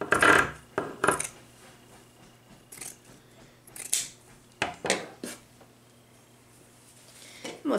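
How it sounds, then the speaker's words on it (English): Pinking shears snipping orange crepe paper streamers into strips for a Dollar Tree Easter craft, several sharp metallic cuts in short bursts with quiet pauses between, close to the microphone. "I have a pair of pinking shears that I'm going to cut it with"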